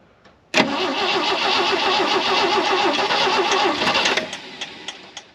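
An old Jeep CJ5, left sitting for 16 years and running a troublesome carburetor, cranks briefly and catches, then runs at a rough, loud, uneven idle for several seconds before being shut off abruptly.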